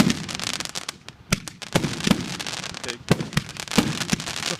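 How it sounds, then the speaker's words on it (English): Red, white and blue flaming-ball firework cake of 200 grams going off outdoors, a rapid stream of sharp cracking bursts and crackle with a few louder bangs, close and loud, brief voices faintly underneath. "The fireworks, it's a flaming ball."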